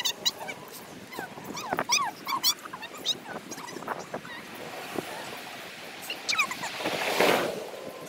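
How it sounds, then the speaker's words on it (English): A black dog on a street in Fords, New Jersey, gives a series of short, high whines and whimpers, some close together and some spaced apart, over a soft outdoor wash of background noise. "That's beautiful dog, by the way."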